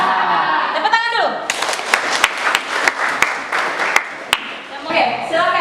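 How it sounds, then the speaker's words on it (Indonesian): A school classroom of students claps together, a run of sharp, rhythmic hand claps following a voice, close and loud, with talking resuming at the end. "Tepuk tangan dulu"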